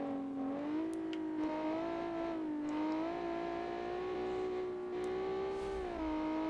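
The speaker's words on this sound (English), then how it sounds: "It's a really loud V6." A loud V6 car engine in a driving video game drones at a steady pitch, rising and falling slightly as it revs, with no talking.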